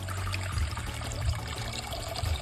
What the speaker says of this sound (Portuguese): aqui a gente vai colocar água normal